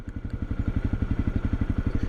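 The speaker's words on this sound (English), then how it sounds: "I will check to see when I switch the bike on" A Honda CRF250 Rally motorcycle engine idles with a steady, rhythmic thumping pulse, close and even throughout, with no voices.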